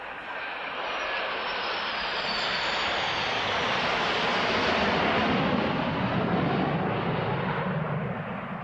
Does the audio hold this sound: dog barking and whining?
no